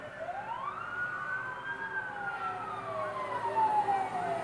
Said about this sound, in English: That was a fire truck on its way to put out a fire.